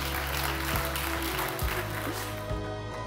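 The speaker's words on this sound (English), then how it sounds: "Applause for the HPV vaccine." Audience applause at an Ada Lovelace Day 2017 event, a steady wash of clapping that fills the whole stretch at even loudness, with no voices standing out.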